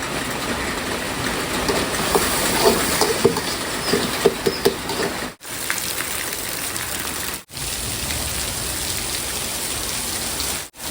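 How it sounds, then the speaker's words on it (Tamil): Heavy rain pours outdoors on a Sunday, a dense, loud, continuous hiss and patter of drops on surfaces. Scattered nearer drips stand out, and the sound is briefly cut twice. "மழை செம மழை செம்ம மழை வர மாதிரி"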